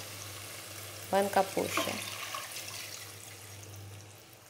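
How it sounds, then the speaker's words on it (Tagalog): Water poured into a cooking pot while making sotanghon, a short splashing pour against a faint steady hum, with someone speaking softly at the same time. "Maglagay po tayo ng tubig."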